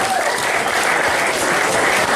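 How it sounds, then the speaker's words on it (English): Wedding guests applaud at the ceremony, a thick, steady burst of many hands clapping from a crowd nearby, filling the short moment without pause. "Give yourselves a round of applause."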